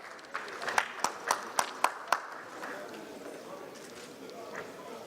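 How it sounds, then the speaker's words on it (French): A few loud, distinct claps at a conference panel award handover, roughly half a dozen sharp hits in quick sequence early on, then fading into a murmuring room with faint scattered clapping. "Vos applaudissements, s'il vous plaît"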